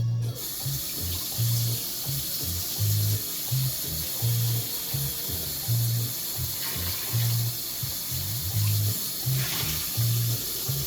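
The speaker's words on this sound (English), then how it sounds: "let me rinse this off really quick before it becomes encrusted" Tap water running steadily into a sink while a pan is rinsed, with a rhythmic low rattling knock repeating under the flow, close and without talk.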